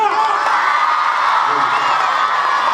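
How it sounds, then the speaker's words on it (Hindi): A crowd cheers and whoops loudly with applause mixed in, a dense, continuous roar of voices at an Independence Day school program in Bidasar, India. "जोरदार तालियां।"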